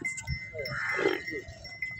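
Buffalo at a livestock market, one animal giving a short low bellow near the microphone over faint background clatter and noise.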